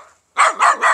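A dog barks three times in quick succession, loud and close, after a brief quiet moment.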